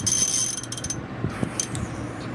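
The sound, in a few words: socket wrench tightening nuts on lamp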